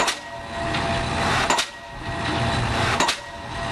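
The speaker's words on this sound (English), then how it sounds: "Bermingham hammer. Made especially for marine piling." A Bermingham pile-driving hammer drives marine piles at a harbour silo in Owen Sound, giving heavy rhythmic blows about every one and a half seconds over a loud, constant machinery drone.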